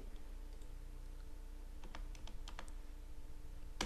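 Steady typing on a computer keyboard while a CV is formatted in MS Word, with Enter and Tab presses as a string of crisp key clicks over a constant low hum, ending in a louder clack.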